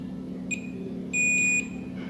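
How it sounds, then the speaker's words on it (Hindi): A multimeter beeps on a continuity test while probing a Redmi 5 phone's board: a short high tone, then a longer steady tone over a low background hum. "एक तरफ ग्राउंड से बीप और एक तरफ वैल्यू"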